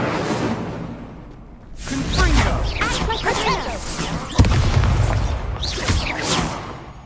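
Incendio fire spell and Levioso cast in combat in Hogwarts Legacy, with whooshing bursts and a booming impact mid-way, as a voice speaks the spell names and taunts over the effects.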